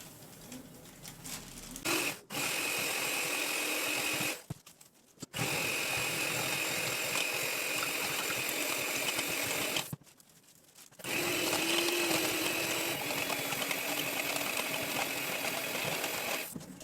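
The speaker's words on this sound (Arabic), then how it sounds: "نقدر نضرب بقى ايه على السرعه البطيئه او المتوسطه" An electric mixer whirs at slow to medium speed while beating a milk-based kunafa filling, a steady motor drone that cuts out briefly twice and then resumes, loud and close with no talking.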